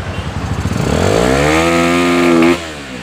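A motorcycle engine, freshly serviced with its carburetor, revs hard and close, the pitch sweeping up over about a second, holding high and loud, then cutting off abruptly, with no talk over it.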